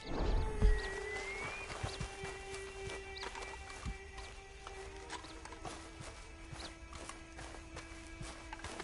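A horse walks in Red Dead Online with soft, steady clip-clop hoofbeats, faint under a low ambient music bed and without any talk.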